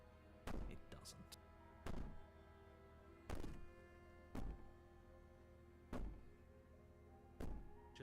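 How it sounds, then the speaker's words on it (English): Heavy thuds pound against the wooden cabin door in the video game Slay the Princess, striking about every one to one and a half seconds. The booming blows sound close and loud over a low, steady ambient drone. "Maybe the banging and wailing will stop if you just don't pay attention to it."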